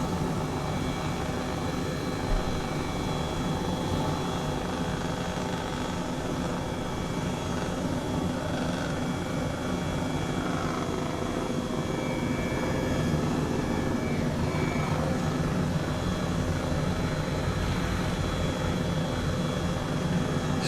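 An H135 helicopter flying in Microsoft Flight Simulator gives a steady, loud rotor and turbine drone that stays even and unbroken throughout, with no voices.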